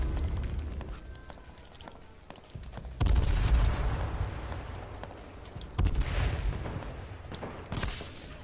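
Sniper rifle shots in the battle royale game H1Z1: a few loud, booming reports spaced several seconds apart over continuous in-game background noise.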